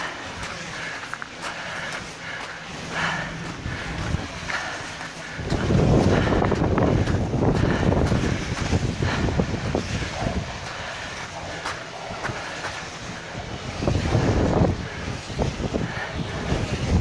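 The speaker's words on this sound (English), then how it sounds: "It was windy earlier, but now it's a little bit of wind." Wind blows across an open wind farm in gusty, rushing surges that swell louder around the middle and again near the end, with buffeting noise on the microphone and no one talking.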